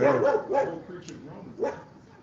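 A dog gives three short, close barks spaced about half a second apart, with voices around it.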